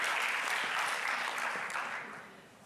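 Audience applause for a panel moderator at an opening ceremony, steady broadband clapping from a crowd that holds strong for about two seconds and then gradually fades.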